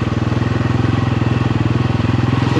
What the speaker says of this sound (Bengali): বাইক নিয়ে আমরা ঢুকে যাচ্ছি।